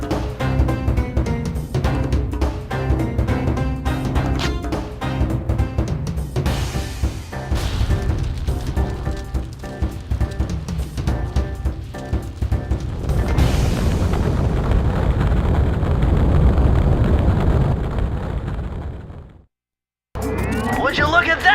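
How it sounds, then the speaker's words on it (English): Fireworks explode over the snowy Kunlun Mountains of western China in a Sly Cooper cutscene: continuous loud booming and crackling blasts with music and rumble, ending in a brief cut to silence before the roar resumes. "A fireworks show!"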